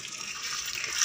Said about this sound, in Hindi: तो अभी पाइप से डाल रही हूँ कि जल्दी पानी